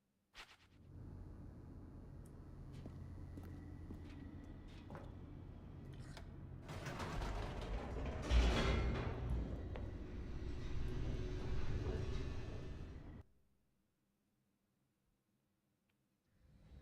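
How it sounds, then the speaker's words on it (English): An elevator in The Stanley Parable descends with a low mechanical hum and rumble that swells into a louder whooshing surge midway, then cuts off abruptly into near silence. "The elevator raced downward, plummeting towards an unknown fate."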